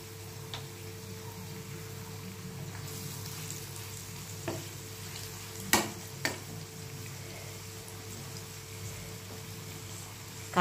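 Kakrol (bitter gourd) pieces fry in a pan with a steady, soft sizzle. Occasional light clicks come from stirring, and no one speaks.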